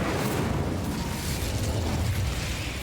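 An Incendio fire spell cast in Hogwarts Legacy makes a dense, roaring burst of flame, loud and continuous, with a rumbling low end and crackling bursts.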